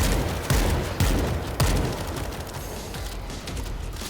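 Shotgun blasts in World War Z, three sharp loud booms about half a second apart, each trailing off over a dense layer of continuous gunfire and game noise.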